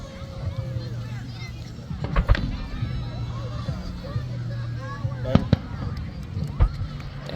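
July 4th fireworks burst at a distance, with sharp booming explosions at irregular intervals over a steady hum of crowd chatter and boat engine noise, while people nearby talk.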